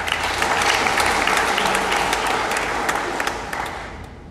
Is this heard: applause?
yes